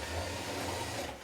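A steady, close mechanical whir from a small electric motor in a LEGO Model Team DAF truck raising the legs of a trailer, running continuously at an even level for the whole moment with no talk.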